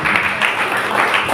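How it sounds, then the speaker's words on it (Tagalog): A church congregation claps together to praise the Lord, a brief burst of dense, loud applause that fills the room. "Malakas na palakpak sa ating Panginoon."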